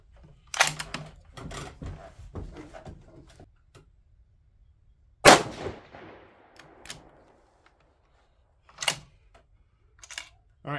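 6mm ARC rifle shots at an outdoor range: a few sharp, loud cracks spread far apart, each trailing a short echo, with quiet handling noises between them.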